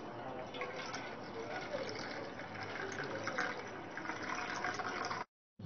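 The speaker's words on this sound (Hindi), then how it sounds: "अब हम इस पानी को एक दूसरे पात्र में छन्नी के माध्यम से छान लेंगे।" Boiled water is poured through a strainer into another vessel, making a steady splashing, gushing stream that runs for about five seconds before stopping abruptly.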